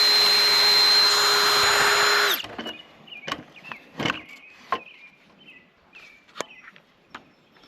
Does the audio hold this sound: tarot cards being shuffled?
no